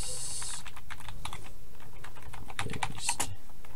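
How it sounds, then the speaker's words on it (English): Steady clicking of keys on a computer keyboard while a C++ console application is set up; close, continuous typing with irregular bursts of keystrokes and no speech. "we'll go with C++, and then we type Quinton's text."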